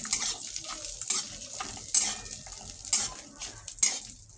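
Cashews and raisins fry in ghee for gajar ka halwa, a steady close sizzle with repeated scraping stirs of a spoon against the pan and no talking.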